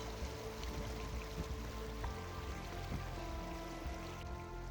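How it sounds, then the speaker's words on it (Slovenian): A naturally hot river flowing through Reykjadalur valley in Iceland, a steady, moderately faint broadband rush of running water that continues evenly with no speech. "Naravno vroča reka."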